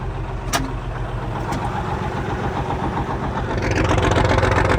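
A Steiger Cougar farm tractor idles on a cold day, a steady loud diesel rumble running unbroken and close, with brief faint clicks early on and a slight rise in the engine note near the end.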